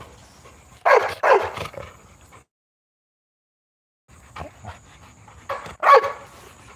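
An 80-pound dog pants and huffs in two bursts separated by a silent gap, close and moderately loud, with breathy rapid exhalations and no talking.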